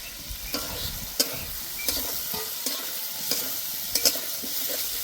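Soybean chunks and fried potatoes are stir-fried in a pan for a vegetarian curry. A steady sizzle runs under repeated spatula scrapes and knocks at an uneven rhythm, fairly close, with no one talking.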